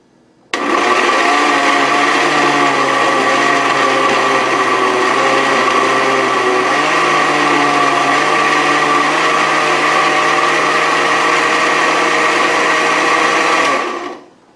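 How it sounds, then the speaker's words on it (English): A blender purees fresh tomatoes for homemade canning sauce, its motor roaring loud and steady for about thirteen seconds before cutting off, with no voices over it. "So we'll be doing it in a blender."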